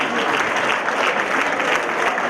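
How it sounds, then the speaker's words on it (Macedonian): A carnival masquerade audience applauds visiting guests from Moscow, a brief, even wash of crowd clapping that holds steady throughout. "Молам еден аплауз за нашите гости од Москва"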